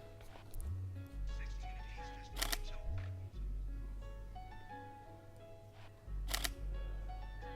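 A camera shutter fires twice with a Neewer Cobra TT560 Speedlite flash set to minimum power, two crisp clicks a few seconds apart over a low background hum and faint room noise.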